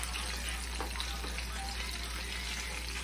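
Fried cheese frying in a pot of oil over medium heat for mangu, giving a steady, even sizzle beneath a constant low hum, moderately loud and unbroken throughout.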